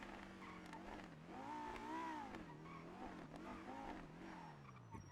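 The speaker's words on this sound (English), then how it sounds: "This is just a very loud car." Loud, odd-looking car in the video game GTA V on the NoPixel server, engine revving up and down in wavering pitch sweeps over several seconds with tire squeal, continuous and fairly close, no talking.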